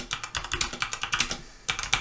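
Typing on a computer keyboard while building a web page, a quick irregular patter of soft clicky keystrokes close by, with a brief pause before another burst.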